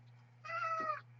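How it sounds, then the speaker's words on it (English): A single drawn-out house cat meow, fairly clear and close, rising and falling over about half a second against a steady low electrical hum, with no talking. "I think that's my cat."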